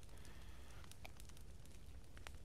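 A campfire burns in the survival video game The Forest, sending out faint, scattered crackles and small pops over a soft, steady background hiss.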